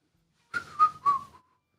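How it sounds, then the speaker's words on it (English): A person whistles a short, jaunty three-note tune, bright and fairly close, with each note swelling and then fading to silence. "Makes you whistle while you walk down to work."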